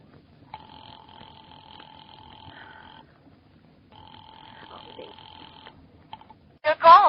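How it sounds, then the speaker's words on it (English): A telephone bell ringing in two long, even rings separated by a pause, clear against a quiet background, followed by a brief louder noise at the end. "Ringing the police department."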